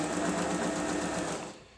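A Janome 2522 sewing machine runs a straight stitch, a steady close mechanical whirr with a fast rhythmic needle chatter that holds even for over a second and then winds down, with no voices.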